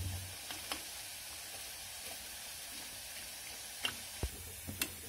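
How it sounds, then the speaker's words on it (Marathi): Sev frying in oil until reddish brown, a faint, low hiss of gentle bubbling with a few scattered sharp ticks and pops, quiet and steady with no talk. "अशा प्रकारे आपल्याला तांबूस रंगावरती शेव तळून घ्यायची आहे।"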